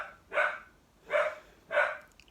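Three dog barks in a slow, even rhythm, moderately distant and fairly quiet, with no talking.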